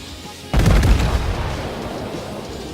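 Heavy naval guns of the battleship USS New Mexico fire in World of Warships, a sudden loud boom that rolls into a sustained rumbling roar lasting a couple of seconds.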